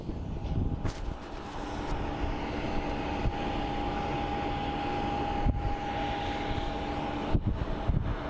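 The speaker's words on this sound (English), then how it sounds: "we have our Delta Connect that is going to be headed to Los Angeles, the little Embraer 175" A Delta Connection Embraer 175 regional jet at Phoenix Sky Harbor airport gives a steady, broad engine roar with a faint sustained whine, heard from a distance, no talking.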